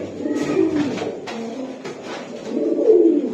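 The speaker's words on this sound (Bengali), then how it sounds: "এই যে দেন আরো কিছু কবুতর দেখাবে ভাই" Pigeons coo in low, throaty bursts at a busy pigeon market where birds are being sold, several birds overlapping continuously at close range with only faint background noise.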